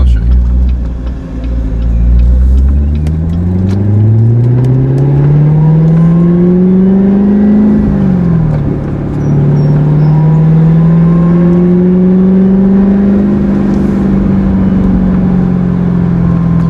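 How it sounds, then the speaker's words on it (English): A Corvette Z06 with its exhaust valves open and supercharger whining, the engine revving up loudly in two long rising pulls with a brief dip between, close and sustained, no talking. "You can hear the supercharger."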